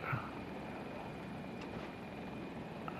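Helicopter rotor and engine drone in the first-person shooter Battlefield 2042, a steady mid-distance thrum holding evenly for about three seconds with no speech over it.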